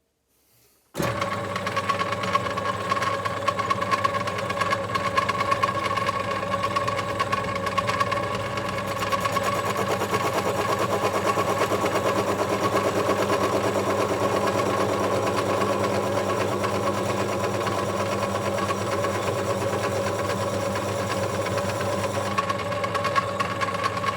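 An Ajax milling machine runs with a steady mechanical whir and hum while attempting to cut a chamfer on hardened steel, holding a constant level close by without talk.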